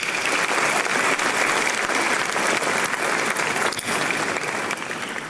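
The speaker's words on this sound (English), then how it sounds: "Shall we do a big round of applause for them?" Dense, steady applause fills a law school honorific lecture hall, a full audience clapping loudly and continuously before easing slightly at the end.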